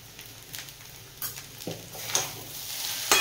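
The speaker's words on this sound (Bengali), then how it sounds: "আবারও নাড়িয়ে নেব।" Egg chowmein is stirred in a hot pan, with scraping strokes against a soft background sizzle, the clatter of the utensil coming in irregular bursts up close.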